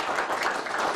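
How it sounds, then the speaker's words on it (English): A room full of people claps steadily at a talk on the history of photography, a dense, even burst of applause with no voices over it. "I'd appreciate if you'd give Destiny a big round of applause"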